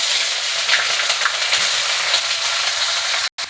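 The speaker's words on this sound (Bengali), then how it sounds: "তো দেখুন এখানে যে বাদামটা ভাজা হচ্ছে, ভালো করে চিনে বাদামটা ভেজে নিচ্ছি।" Peanuts frying in hot oil with curry leaves make a loud, constant close sizzle, steady throughout before a brief cut near the end.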